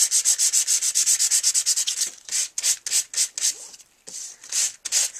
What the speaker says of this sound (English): I'm going to quickly just run my sandpaper over that design